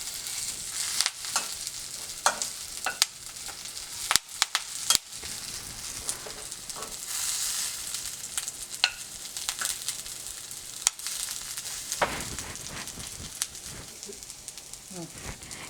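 Curry leaves and garlic fry in hot oil, giving an ongoing sizzle with sharp crackles and pops and occasional stirring clatter, close by.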